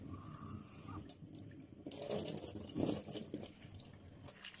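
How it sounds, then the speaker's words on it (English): Warm water runs from a kitchen tap into a container while preparing a homemade cough and cold syrup, a quiet, steady splashing flow that swells slightly partway through. "I'm going to add warm water to it."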